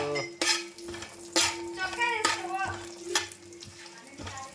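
Shahi jeera and cardamom sautéing in a pot for biryani: a soft sizzle under repeated metal spoon scrapes and clinks against the pot, close and fairly quiet, with brief voice in the background.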